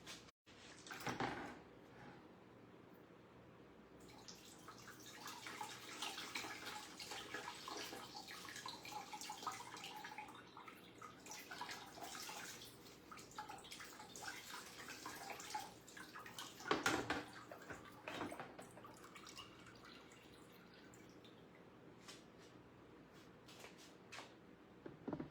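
Running water rinses a sheet of water-marbled stiff paper, a quiet uneven splashing and dripping flow with a few handling bumps, steady for the whole stretch.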